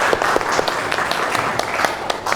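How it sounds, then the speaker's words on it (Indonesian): Students in a class burst into lively applause, a dense run of close hand claps with a few sharper individual claps standing out. "Tepuk tangan dulu, lupa tadi."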